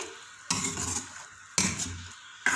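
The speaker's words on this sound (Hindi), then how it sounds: "अब इसको टमाटर के पेस्ट में पका के खुश्क कर लेते हैं।" Mutton cooking down in tomato paste in a pot, three bursts of stirring with a spoon scraping and clinking against the metal, over a low sizzle, close by and without voices.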